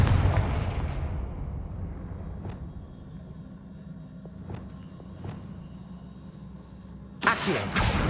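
Confringo fire spell in Hogwarts Legacy, a loud blast at the opening that decays into a long low rumble with a few faint distant thuds, then another sharp burst near the end.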